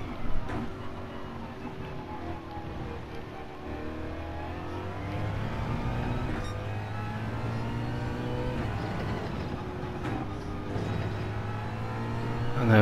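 Race car engine in Gran Turismo 7 at Blue Moon Bay circuit, revving up through gears as it accelerates out of a corner, a steady mid-level drone with rising pitch sweeps and shifts, with faint talk underneath.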